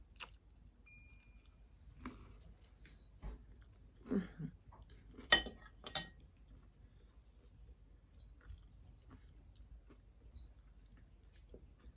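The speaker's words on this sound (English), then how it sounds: "I'm going to take just a little bit of a taste of this. A little bit of apple too." A spiced apple biscuit with crunchy brown sugar is eaten up close, giving a few scattered crisp bites and quiet chewing between pauses.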